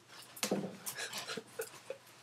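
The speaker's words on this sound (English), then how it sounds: "That ugly doggy." A dog whimpers and pants close by in short, uneven whines and breathy bursts, fairly quiet, with no talking.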